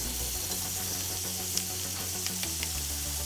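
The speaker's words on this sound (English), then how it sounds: "a sizzling hot pan sounds more melodious than the birds chirping in nature" Marinated chicken pieces sizzle in a hot kadai, a dense continuous crackling hiss with occasional sharp pops, close and steady with no talking.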